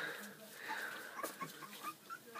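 Three-week-old puppies whimper and yip in soft, high, wavering cries, with several brief squeaks scattered through the moment. The sounds are faint and close, over a quiet background.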